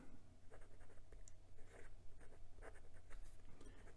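A Kaigelu 356 fountain pen with a medium steel nib scratches across Clairefontaine 90 gsm paper in close, quiet, steady strokes, alone without talk.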